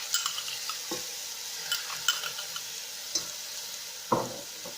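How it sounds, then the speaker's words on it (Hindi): Ginger garlic paste fries in a pot while a spoon stirs it now and then, giving a steady close sizzle with a few sharp scraping knocks against the metal. "फिर हमने इसमें अदरक लहसुन का पेस्ट डालना है।"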